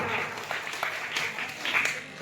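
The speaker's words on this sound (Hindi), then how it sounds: "तालियां तालियां" Audience claps for a child at a competition held in a village Durga Puja pandal: light, moderately faint applause from a small crowd over a couple of seconds, with uneven bursts.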